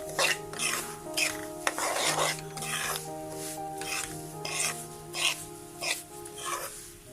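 Semolina roasting in a pan with a couple of opened cardamom pods, stirred with repeated scraping, rasping strokes against the metal, close and steady, with faint clicks and a soft sizzle underneath.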